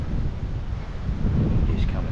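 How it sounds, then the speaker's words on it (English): Strong outdoor wind buffets the microphone in loud, low, rumbling gusts that swell and surge, with no clear speech over it. "especially how windy it is today"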